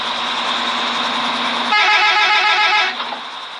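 Bus in the Bus Driving Simulator video game sounding its horn: a loud, sustained, brassy honk lasts about a second over a steady engine drone, then cuts off, leaving the engine running with no talk.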